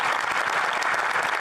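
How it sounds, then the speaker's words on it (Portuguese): Members of the Canadian parliament give Zelensky a standing ovation, a dense, continuous wash of many hands clapping, loud and even throughout. "Zelensky foi aplaudido de pé"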